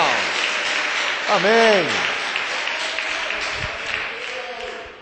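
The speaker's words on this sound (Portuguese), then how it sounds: "dá uma salva de palmas para Jesus aí, Cenáculo" A church congregation claps steadily in a continuous, moderately loud wash for the whole stretch, with a voice briefly calling out over it partway through.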